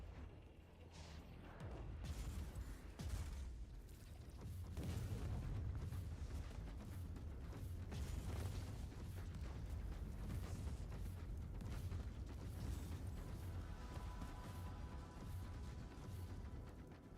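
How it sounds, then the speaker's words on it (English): Artillery strike in a Warhammer 40K video game: a dense, continuous barrage of heavy booms and rumbling blasts, loud and close, rolling without pause for the whole stretch. "Artillery strike commencing."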